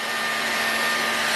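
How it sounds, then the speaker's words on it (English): A heat gun on its high setting blows with a loud, steady, close-up whoosh and a thin whine running through it, used to warm a Saito FA-91S engine for bearing installation. "Now my heat gun has two settings. It has a low and a high."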